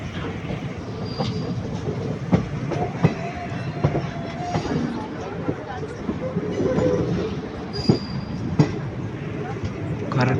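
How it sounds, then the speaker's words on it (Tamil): A fast passenger train in India rushes past nearby, a continuous roar of rolling wheels with sharp rail clacks and a few brief squeals, steady for about ten seconds. "ஃபாஸ்ட்டு, செம்ம ஃபாஸ்ட்டு ட்ரெயின்."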